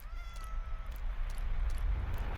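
A cat meows in the Minecraft video game, a short in-game call over a low background rumble, fairly quiet and heard alone without talk.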